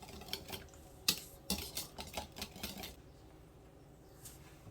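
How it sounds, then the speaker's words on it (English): A utensil slowly stirs carne asada marinade with fresh lime juice in a bowl, soft scraping and light clinking taps against the sides coming close, quiet and uneven. "Go ahead and start stirring that slowly"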